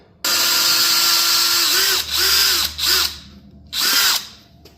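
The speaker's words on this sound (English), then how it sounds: "and drill my 4 holes" A power drill whirs steadily at close range, then revs in several shorter bursts with brief pauses between them, loud and with no talking, drilling screw holes while building a teardrop trailer.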